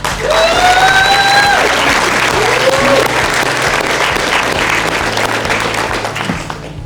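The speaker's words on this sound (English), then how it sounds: "a round of applause, please, for the beautiful bride and her husband" Wedding guests applaud the bride and groom with steady, dense clapping filling a reception room, holding loud and even throughout, with a brief high whistle-like tone sliding over the start.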